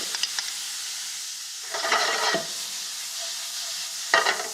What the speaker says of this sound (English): Once the onion turns translucent, in goes some garlic.